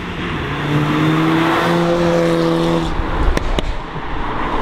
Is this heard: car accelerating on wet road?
yes